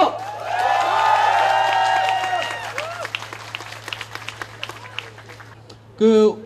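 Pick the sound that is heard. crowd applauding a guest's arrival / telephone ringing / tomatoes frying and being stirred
crowd applauding a guest's arrival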